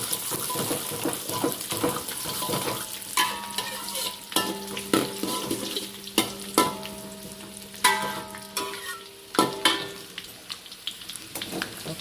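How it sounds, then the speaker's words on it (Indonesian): Cashew nuts frying in hot oil in a pan, a steady sizzle broken by scraping and clinking of a stirring utensil, close and without talk. "Sekalian kita goreng kacang medenya ya."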